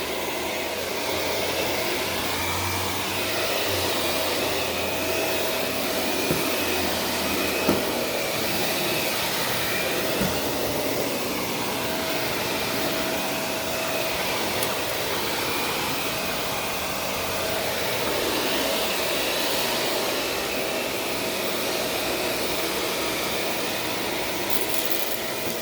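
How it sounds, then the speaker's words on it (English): A vacuum cleaner runs over carpet with a continuous, loud, even whooshing roar and a steady motor whine, close and unbroken, with no voices. "Use the vacuum thing to pull that up."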